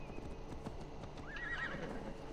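A horse in Assassin's Creed Valhalla clip-clops at a steady trot and gives a distinct whinny partway through, heard fairly faintly with no one talking over it.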